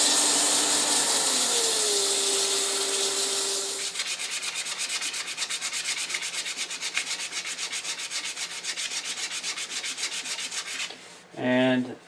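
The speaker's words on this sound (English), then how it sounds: "I'm going to use a little 180 grit to get rid of some of those tool marks" Sandpaper of 180 grit rubs over a spinning wooden handle on a lathe, producing a steady close rasping hiss with a fast rhythmic texture, while the lathe motor whines underneath before spinning down at the end.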